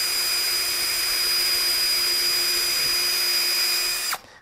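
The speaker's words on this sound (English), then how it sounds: "to make a pilot hole for the nails that are going to go into the sides, I use my drill." A power drill boring pilot holes in wood for birdhouse side pieces, a loud steady high-pitched whine held for about four seconds before spinning down abruptly, close up with no talking.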